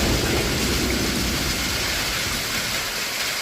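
Hailstorm with heavy rain in Munnar, a dense continuous hiss and clatter of falling ice and water, loud and steady throughout, no voices.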